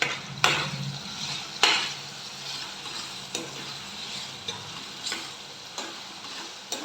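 Food fries in a pan while a spoon stirs it now and then with sharp scraping knocks. Beneath the knocks runs a soft, continuous sizzle. No one speaks.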